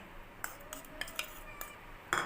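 Powdered sugar being stirred into a biscuit and milk mixture, a spoon scraping and clinking against the bowl in quick, uneven strokes, close and fairly quiet, with a sharper knock near the end.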